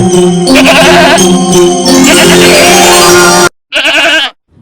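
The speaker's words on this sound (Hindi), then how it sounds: "यह तो बकरी के चिल्लाने की आवाज है," Loud, close bleating from a goat, long wavering cries followed by a short sharp bleat after a brief pause.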